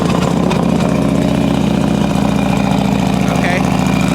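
A Harley-Davidson Road King motorcycle engine, built for more power, settles into a loud, steady, close lumpy idle after starting, with a constant rhythmic throb throughout.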